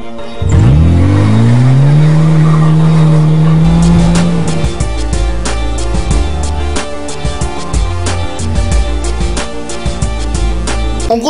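A Lada 2114 car in a TV advert revs up with a rising engine whine that holds steady, then gives way to clattering, percussive driving sounds and music-like hits, loud and close throughout.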